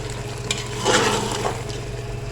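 Ground cumin and dried coriander roasting in hot oil for a wedding-style korma give a steady, soft sizzle that swells briefly in the middle, close by with no talking.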